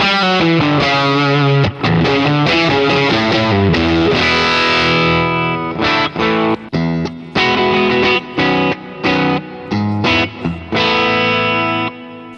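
Fuzz-distorted electric guitar through a JHS fuzz pedal, playing loud, thick chords and a choppy run of short stabs, heavily saturated with a buzzy, fuzzy edge.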